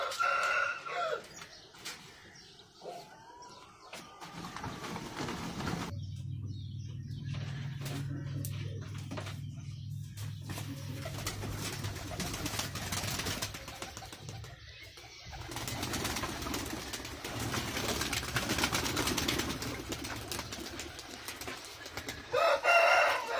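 Pigeons being brought out for training, soft cooing and wing flutters close by, with clucking and rooster-like calls from surrounding fowl in an outdoor setting.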